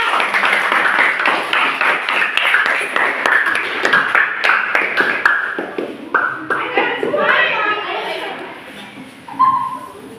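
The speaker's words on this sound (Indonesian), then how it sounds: "Kasih aplaus dulu untuk kelompok 2." A classroom audience claps for a presenting student group, with dense, steady hand-clapping near and loud for about six seconds, then thinning into scattered claps and voices.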